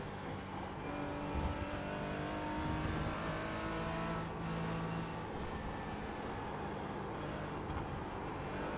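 Porsche Cayman GT4 on track at Watkins Glen, its engine droning steadily with rising and falling harmonic pitch lines as it pulls through gears, loud and continuous from inside the car, no talking.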